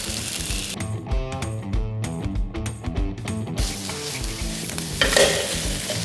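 Rice stir-fried in oil in a pan for Malaysian nasi goreng kampung, with a wooden spoon scraping and tossing the grains in quick repeated strokes over a constant close sizzle.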